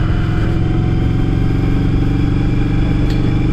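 A 1982 Yamaha Virago motorcycle cruises along a residential street, its engine droning steadily and loud with a throaty, even mid-range rumble and no pauses or speech.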